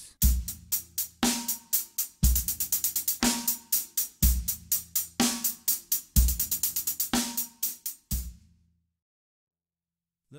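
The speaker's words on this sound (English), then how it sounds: "Now I'm going to incorporate the 9-stroke roll onto the hi-hats." A 9-stroke roll played on hi-hats, crisp rapid bursts of close sticking repeating in a steady pattern with accented hits, stopping abruptly near the end.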